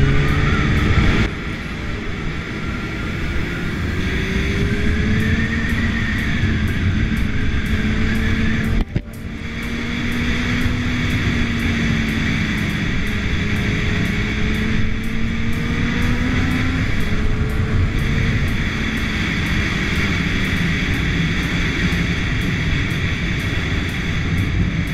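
Honda CB1000R roadster motorcycle riding steadily, its engine droning with rising and falling revs and a brief dip where the throttle is released, a loud continuous run with wind noise throughout.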